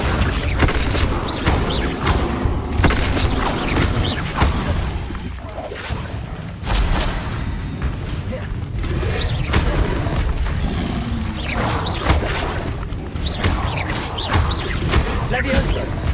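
Spell casting in the Hogwarts Legacy video game: a dense, continuous wash of magical whooshes, booming impacts and mechanical clanks, with an incantation-style voice calling out spells over the effects.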